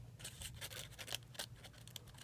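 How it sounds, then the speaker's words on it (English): Scissors snipping paper during card-making at a holiday craft class, a quiet string of short, sharp cuts in an uneven rhythm, close but faint, with no voice over them. "then I just come out in here with scissors"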